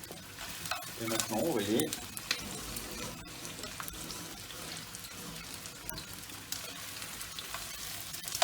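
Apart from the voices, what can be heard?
garlic sweating and sizzling in a pan for chicken tajine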